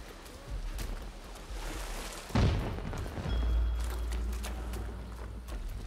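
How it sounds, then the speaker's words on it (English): Fireworks in Rise of the Ronin go off with a single deep boom midway through, followed by a low rumbling tail over a steady ambient bed of game noise. "You're fascinated at the fireworks."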